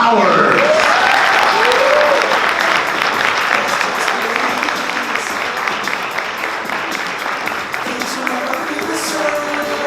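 Loud, sustained audience applause at a youth awards event, dense clapping with scattered cheers and voices running throughout.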